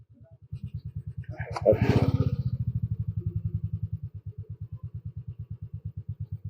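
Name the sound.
motorcycle engine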